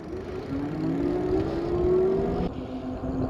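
A moped-style e-bike motor at full throttle whines with a rising pitch that climbs steadily, then eases off, close up and fairly loud over a few seconds.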